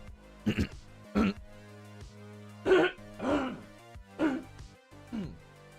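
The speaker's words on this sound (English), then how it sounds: "I just can't sometimes clear my throat without almost like instantly having a hiccup" Several throat clearings, a few short rough bursts spread out with quiet gaps between them, close and moderately loud, with at least one sharp catch that could be a hiccup.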